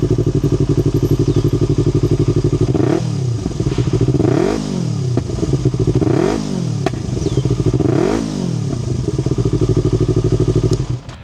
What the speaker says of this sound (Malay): ni ada startkan sikit bunyi motor R25 dengan exhaust Akrapovic ni macam mana.